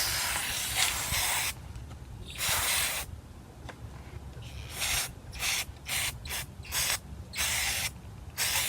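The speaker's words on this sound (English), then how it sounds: "get your spray paint ready to spray over the top." Several hissing bursts of spray paint from an aerosol can, short and long blasts separated by brief pauses, close up with no talking.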